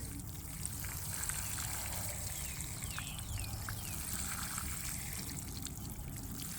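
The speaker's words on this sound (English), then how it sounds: "just keep watering until the water comes out on the other end" Water trickling and dribbling steadily out through a potted Amethyst Falls wisteria after watering, a soft continuous wash with faint drips, quiet and close, with no voices.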